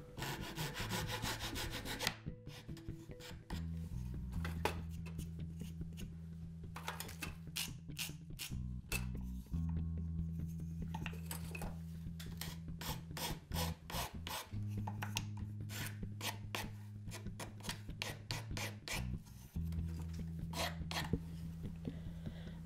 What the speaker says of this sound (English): I also need to file the edges a bit straight and